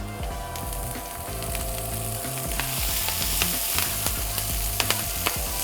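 Greens sauté with shallot and garlic in a pan on a commercial chef station, giving a loud, steady sizzle and frying hiss with occasional stirring clatter and no voices.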